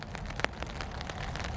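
Rain falling on a camping tarp in the winter woods, heard as faint, scattered pattering drops with one sharper tap, all over a soft, steady background wash.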